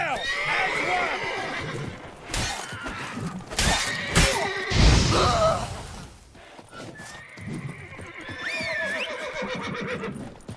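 Horse neighing and whinnying with clip-clopping hooves in The Witcher 3, loud and close, with a crash among the hoofbeats and a short burst of speech along the way.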